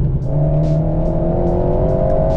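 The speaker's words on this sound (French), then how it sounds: "Et écoutez la sonorité du moteur" A prepared, lightened Alpine A110 S engine holds a loud, steady droning note at moderate revs, close and continuous, with faint crackles riding on top.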